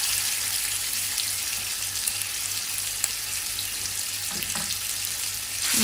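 Small chicken pieces for biryani sizzle steadily in hot oil in a pressure cooker, a constant close frying hiss with faint stirring clinks and no talk.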